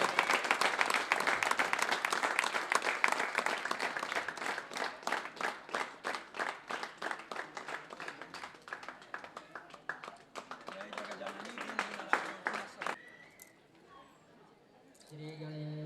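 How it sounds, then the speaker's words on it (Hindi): An audience at a religious gathering clapping to welcome saints, dense sustained applause that gradually thins into scattered claps before fading, with a voice speaking near the end. "तालियां बजाकर संत महापुरुषों का स्वागत करें"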